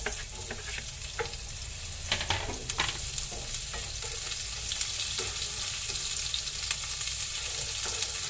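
Onion and ginger sautéing in a pan for jackfruit in coconut milk, a steady close sizzle with intermittent scrapes and clinks of stirring throughout, no talking.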